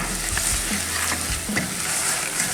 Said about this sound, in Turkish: Hafif rengi esmerleşene kadar kavuruyoruz